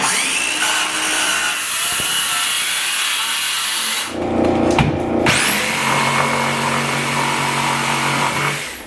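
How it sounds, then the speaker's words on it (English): Power saw making a plunge cut into wood for a trestle-style picnic table, a loud sustained high whine and cutting rasp, a brief dip with a rattle midway, then the motor spinning back up and winding down. "Plunge cut with the saw."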